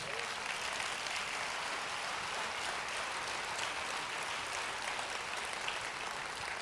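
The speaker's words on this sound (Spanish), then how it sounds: "Denle una ofrenda de palmas al Señor" Congregation applause during a church service, a dense, steady wash of many hands clapping, fairly distant and even, with no distinct voices over it.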